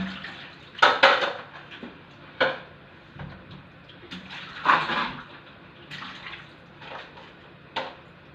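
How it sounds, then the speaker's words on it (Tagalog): Dishes from a shared meal being washed under running water, with scattered clinks of plates and utensils and short splashy bursts over a steady trickle, close by, with no talking. "Maghugas po ako ng mga pinagkainan namin."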